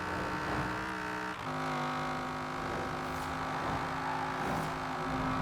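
Cadillac Escalade, a lifted SUV, accelerating in Forza Horizon 4, its engine a steady, sustained drone with one gear-change dip before climbing again toward top speed, no talk.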